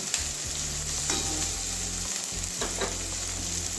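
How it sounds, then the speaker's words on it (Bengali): Onion frying lightly in a pan gives a close, continuous crackling sizzle, joined now and then by brief scrapes of stirring, steady in level and with no one speaking. "পেঁয়াজটা ওই জন্য একটু হালকা ভেজে নিচ্ছি"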